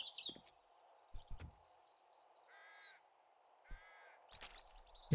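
Birds calling in the zombie survival game 7 Days to Die, with short cawing and chirping notes and a few tonal whistles over a steady low game ambience, with scattered clicks and thuds, no voices.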